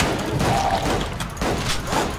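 Shotgun blasts in the horror game Unloved, loud dense bursts and thuds packed across a couple of seconds with no gaps of quiet.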